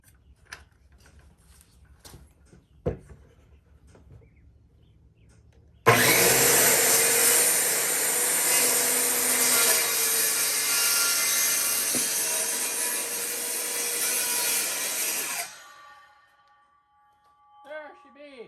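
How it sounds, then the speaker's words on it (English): A power saw cuts through a cedar bench leg, a loud continuous whining roar lasting about ten seconds after a few quiet knocks, then spinning down and stopping. "I'm just connecting the lines so I can cut it with the saw"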